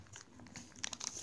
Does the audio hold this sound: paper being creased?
yes